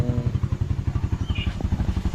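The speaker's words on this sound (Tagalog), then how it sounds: "So nagpapainit tayo ng motor." A motorcycle engine idles while warming up, a steady close throbbing putter with rapid regular pulses and a light mechanical clatter, running alone without talk.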